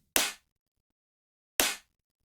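A processed drum rim resample, shaped with EQ and saturation, cracks twice as sharp, bright hits with quick decays, spaced well apart in silence.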